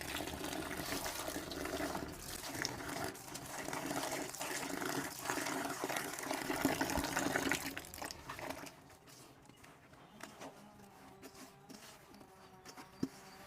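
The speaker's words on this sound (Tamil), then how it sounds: "தண்ணியை ஊற்றிடணும் தண்ணியை ஊற்றி ரொம்ப தண்ணியாகவும் இல்லாமல் ரொம்ப கெட்டியாகவும் இல்லாமல் மிக்ஸ் பண்ணிக்கணும்" Water pours steadily into a mix of chicken feed and bran for meal worm rearing, a close, continuous rushing splash for about eight seconds before it drops to quieter trickling and handling sounds.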